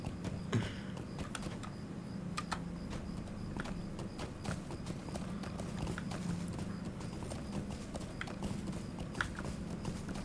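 Horse hooves clip-clopping in The Lord of the Rings Online, a steady rhythmic trot of sharp hoofbeats over a low ambient hum, continuous and moderately close.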